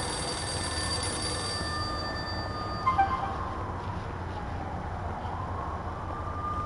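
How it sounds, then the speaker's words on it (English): Payphone ringing in the Max Payne video game, a continuous electronic bell-like ring heard steadily throughout over low ambient game background noise, with no talking. "For anyone who doesn't know, that's a payphone."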